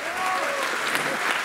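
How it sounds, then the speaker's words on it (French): Brief burst of loud crowd applause at a gala evening, clapping filling the room while a voice speaks over it. "Allez, applaudissements plus fort que ça."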